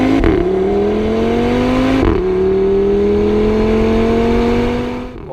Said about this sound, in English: the Porsche now only has 4 cylinders, to the Audi's 5. And that matters a lot, because this noise